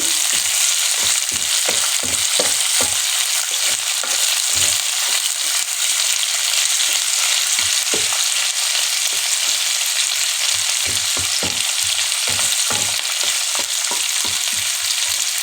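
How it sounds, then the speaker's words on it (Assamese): Ginger, garlic and chillies fry loudly in a pan with a constant hiss, while a spoon stirs them and gives dense, irregular scraping clicks throughout. The sound is close and continuous, with no talking. "গোটেইখিনি মই এতিয়া এনেদৰে লৰাই থাকিম"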